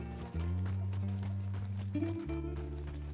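Horse hooves clip-clopping at a steady run in Red Dead Redemption 2, a rhythmic series of hoof beats over droning background music.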